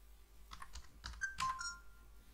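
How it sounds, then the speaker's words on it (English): Typing on a computer keyboard, a short cluster of quiet, crisp key clicks in an uneven rhythm, heard close and alone in a quiet room. "Now let's come out here and let's type hello Pawan,"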